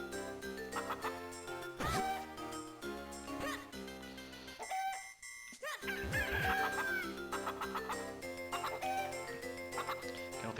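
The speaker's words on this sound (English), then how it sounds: "I want to see if it's possible to, like, herd the cuckoos" Cuckoo chickens in The Legend of Zelda cluck and crow repeatedly over the game's chiming background music, the bird calls coming in bursts at a moderate level.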